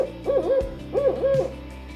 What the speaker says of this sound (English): There were also barred owls